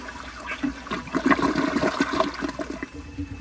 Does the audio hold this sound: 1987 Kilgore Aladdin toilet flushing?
yes